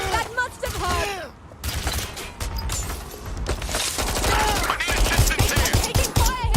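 Rapid gunfire bursts and shots crackle through a Watch Dogs Legion firefight, dense and close, mixed with game voices and mechanical clatter.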